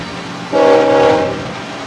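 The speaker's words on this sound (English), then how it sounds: "The train's here." Loud train horn blast of about a second from a passing train near a high school football stadium at a homecoming game, over steady crowd and rail rumble.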